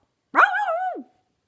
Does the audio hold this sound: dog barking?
yes